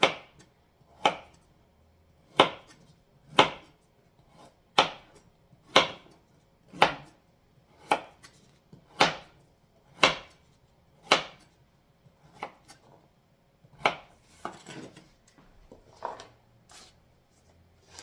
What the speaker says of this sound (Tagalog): Ang hiwa ng carrots, pa-slanting siya.